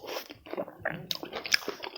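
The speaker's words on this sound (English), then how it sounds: "Okay, one big bite." A big bite of fried fish and chicken leg with fried rice gives close, quiet crunching and chewing, with several crisp crackles packed into two seconds.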